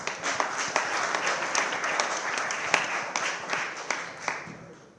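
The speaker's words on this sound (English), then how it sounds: "Yes, applause." An audience at a startup investment strategy talk applauds, a moderate, steady patter of clapping from a modest crowd that gradually thins and fades out.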